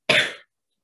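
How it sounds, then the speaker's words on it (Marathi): A single short, close cough bursts out sharply and fades within half a second, followed by silence. "खोकला जास्त येतो."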